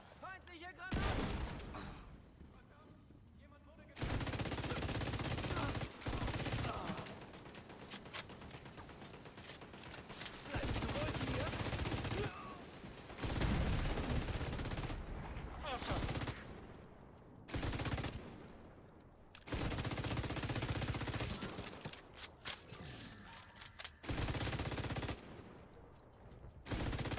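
Sustained automatic gunfire and explosive bursts from a firefight in The Division 2, loud and dense in long stretches broken by brief lulls, with a voice talking over parts of it.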